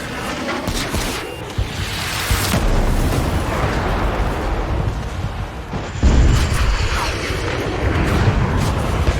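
Missile explosions over the battle for Farbanti in the jet combat game Ace Combat 7: Skies Unknown, a loud, continuous rumbling roar of blasts with sharper booms around the middle and a renewed surge near the end.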